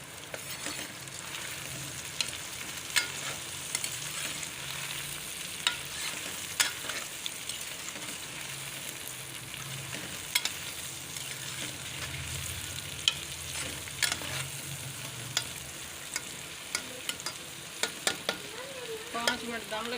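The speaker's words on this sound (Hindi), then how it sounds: "अब इसमें प्याज शामिल कर रही हूँ।" Half a kilo of onions frying in a pan for dhaba-style bhindi fry, a steady soft sizzle with occasional stirring clicks and scrapes, close and continuous without talk.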